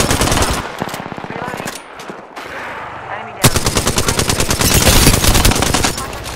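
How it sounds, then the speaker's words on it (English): Automatic gunfire from a weapon in the video game Apex Legends, loud rapid bursts of shots, a short pause, then a longer sustained stream of fire. "Firing!"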